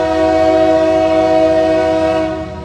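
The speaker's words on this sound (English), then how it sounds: "Is that a fouled horn?" Intermodal freight train passing while sounding a fouled, off-key horn, a loud sustained multi-tone blast that holds steadily and then begins to fade, heard close by.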